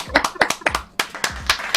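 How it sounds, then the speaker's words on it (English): Several people clapping for someone at a Competition Tuesday show, a quick irregular burst of sharp hand claps, close and loud. "Clap it up for Keystone, bro."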